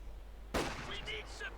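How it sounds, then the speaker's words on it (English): A few rapid gunshots ring out in the Company of Heroes 2 WW2 strategy game, a sudden sharp burst followed by scattered cracks and battle noise over a steady low background. "a few rapid shots there on Franz and Friedrich go down."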